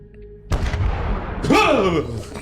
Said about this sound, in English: you hear an explosion deep in the swamp